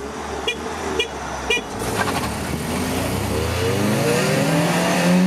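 During a road race between a Lada Priora and a Kia Rio 1.6, a car horn gives three short, loud beeps. A roaring, accelerating engine follows, rising in pitch as it revs.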